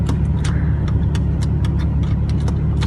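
A 2005 Porsche 911 Carrera S 997 with a quad exhaust runs steadily and loudly close by, its engine a constant low drone under faint clicks and rustles from inside the car.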